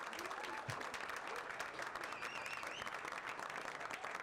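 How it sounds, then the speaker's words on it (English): An audience at a meetup applauds steadily, with dense clapping throughout and a few faint voices mixed in. "Can we give Cherie a big round of applause?"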